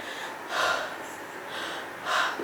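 A voice imitates someone breathing really hard right beside a listener: two or three heavy, breathy gasps spread out, the last sharper and louder, with no words.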